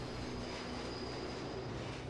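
Steady, low rumble of a train in the video game Deus Ex, a continuous mechanical drone with a faint high whine above it, heard throughout at a moderate distance.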